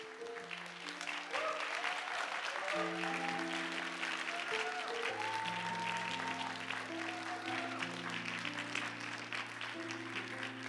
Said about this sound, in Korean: 한 분 한 분 나올 때마다 큰 박수로 환영해 주시면 너무나 감사드리겠습니다